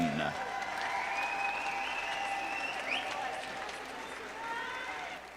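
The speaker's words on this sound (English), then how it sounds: "A round of applause for our Community Service Award winners." Steady applause from a crowd at an evening session of a university swimming championship fills the space, dense and sustained, with an announcer's voice speaking over it.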